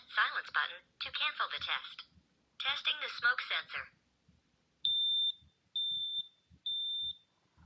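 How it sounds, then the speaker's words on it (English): X-Sense smart smoke detector under test, sounding three loud, shrill alarm beeps in a steady, evenly spaced sequence after a stretch of someone talking. "So I'm just testing this smoke detector"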